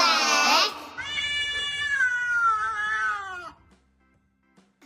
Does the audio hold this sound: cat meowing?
yes